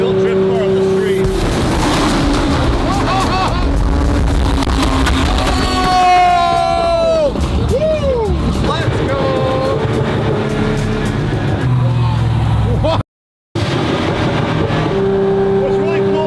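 A fast car resembling a fully built drift car accelerates hard on the street, its engine roaring loud and close with rising and falling revs and a brief dropout, while excited passengers cheer and shout.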